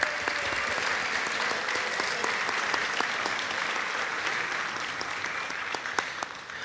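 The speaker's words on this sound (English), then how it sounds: "but let's give him a huge round of applause for Dr. Rollins." Sustained applause from a high school Christmas band concert audience, steady dense clapping throughout with no talking, slightly tapering toward the end.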